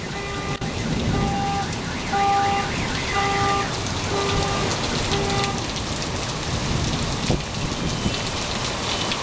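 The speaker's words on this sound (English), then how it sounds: "The thunder is so close it's setting off car alarms." Heavy monsoon rain pours steadily in Tucson, Arizona, joined by deep rumbling thunder nearby, while a faint car alarm set off by the thunder whoops in a repeating pattern in the background.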